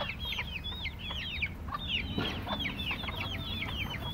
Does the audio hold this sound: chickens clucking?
yes